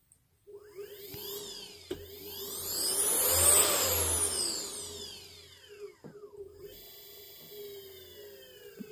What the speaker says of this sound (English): spin our motor